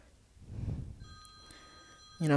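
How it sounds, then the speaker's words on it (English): A telephone rings once with a bright, loud electronic tone near the end, after a quieter stretch of murmuring and faint steady tones. "the phone is ringing"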